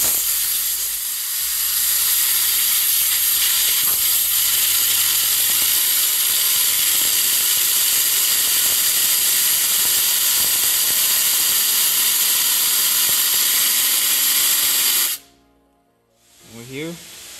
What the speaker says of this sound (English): We're gonna use air and blow it to spin it and see which one is doing the noise.